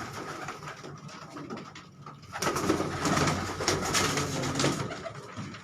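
Reshmi, parel and lightweight pigeons coo in low, throaty calls at a loft, quieter at first and then swelling into a denser, louder chorus of overlapping birds.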